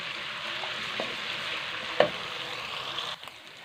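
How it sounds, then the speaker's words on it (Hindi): Ginger and garlic paste fries in hot ghee for a chicken karahi, giving a steady close sizzle with a few stirring scrapes and clicks, ending in a brief clatter. "हमारा अदरक और लहसुन का पेस्ट अच्छी तरह से फ्राई हो चुका है"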